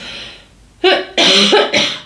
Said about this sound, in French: quand je tousse comme cela en consultation privée